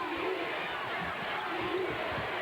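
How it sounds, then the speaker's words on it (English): A basketball arena crowd of about 20,000 at the 2000 Final Four game between Tennessee and Rutgers, cheering with a dense, continuous roar that carries no distinct voices. "The Rutgers crowd on its feet."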